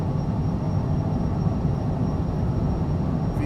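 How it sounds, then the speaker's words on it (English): Steady, loud roar of Cessna CJ4 jet engines at full throttle during a takeoff roll in Microsoft Flight Simulator 2020, a constant broadband rumble that holds unchanged from start to end with no voices. "takeoff, full throttle"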